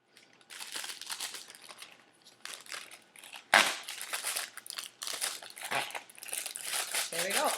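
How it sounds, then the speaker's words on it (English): Snow squished inside a plastic bag makes soft crunching and crinkling bursts, irregular and close, with one sharper crackle in the middle. "So now you guys can squish the snow. You can hear it."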